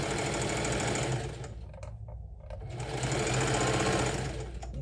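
A sewing machine stitches quilted crossbody handbag fabric in two steady, loud running bursts with a brief pause between them, close up and with no talking.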